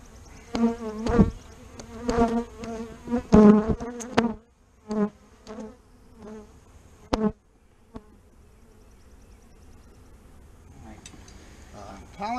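Overwintered Saskatraz honeybees during a first full spring hive inspection, a close, bright buzzing hum that pulses in several loud bursts and then fades to a quieter drone.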